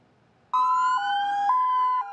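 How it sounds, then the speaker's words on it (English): An Ohio State Highway Patrol car siren suddenly wails up close, a loud two-tone warble cycling steadily for about a second and a half with no talk. "Sirens blaring"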